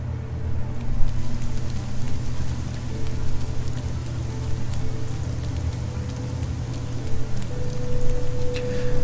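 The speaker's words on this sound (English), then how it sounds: "Still raining." Steady rain falls in the video game Fall of Porcupine, a continuous dense patter with a low hum underneath and no talking.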